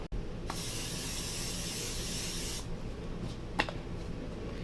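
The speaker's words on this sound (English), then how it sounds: "Using canola oil spray." Canola oil cooking spray hissing from an aerosol can onto a pan, one loud continuous burst of about two seconds, followed by quieter kitchen handling sounds.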